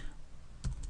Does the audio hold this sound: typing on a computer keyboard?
yes